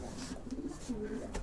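Pigeons kept in a home loft, including flying pigeons, give soft, low cooing calls in brief overlapping phrases, close by and moderately loud, with faint background noise.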